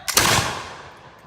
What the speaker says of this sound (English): Make ready. Take aim. Fire.